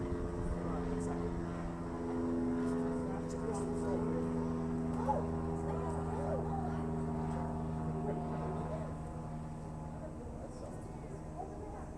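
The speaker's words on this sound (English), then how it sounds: "I couldn't hear you over the plane." A plane flies overhead during an outdoor city event centred on chimney-nesting aerial insectivore birds, a steady low engine drone lasting throughout, loud and sustained, with people talking over it.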